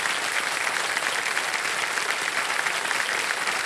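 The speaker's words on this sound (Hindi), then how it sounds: "जोरदार तालियां बज जाती हैं" A studio audience on the KBC quiz show breaks into steady, loud applause that holds evenly throughout.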